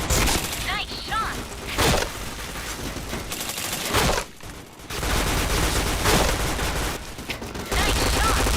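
Rapid gunfire in the online shooting game Point Blank, with loud close bursts of shots packed tightly together and brief pauses between volleys. Some talking is mixed in.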